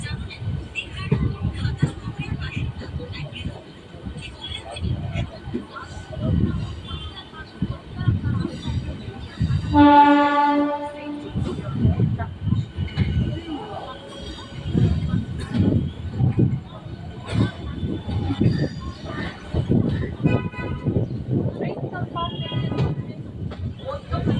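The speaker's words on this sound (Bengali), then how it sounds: "ট্রেন এখন ধীরে ধীরে ঢুকছে হাওড়া স্টেশনে তিন নম্বর প্ল্যাটফর্মে" A train slowly pulls into platform three at Howrah station from the Bally side, a steady low rumble and rattle with wind buffeting the microphone and a brief tonal horn-like sound midway.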